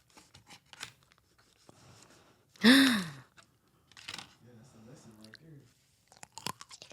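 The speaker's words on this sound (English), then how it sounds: "I don't think I'm gonna be able to cut the pickle." Knife slicing through a pickle with one loud, crisp crunch in the middle, surrounded by quieter mouth and handling sounds and soft breathy voice.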